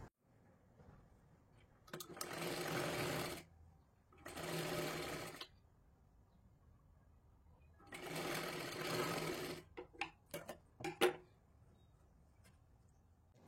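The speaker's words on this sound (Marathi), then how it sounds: "हे पहा अशा पद्धतीने शिलाई करून घेतली." Sewing machine stitching a blouse, running in bursts of steady whirring with pauses between, followed by a few short clicking stitches and handling sounds, close and fairly quiet.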